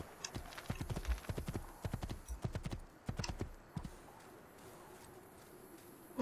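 Horse hooves clop steadily in Assassin's Creed II, a quick rhythmic run of hoofbeats close by that stops partway through, leaving only quiet ambience.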